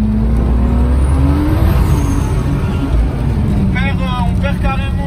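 A car engine revs hard under the throttle, roaring loud and close with a rising, surging pitch while someone talks over it.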